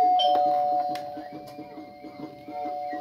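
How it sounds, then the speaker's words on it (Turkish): Wired battery-powered doorbell ringing indoors: a steady electronic chime tone with a few sharp clicks, followed by a faint, rapid repeating pattern at moderate volume. "Evet, zil çalışıyor."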